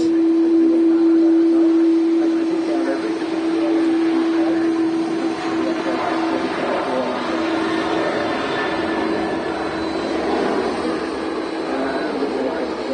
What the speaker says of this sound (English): Them CF6 engines with a lovely low rumble to them.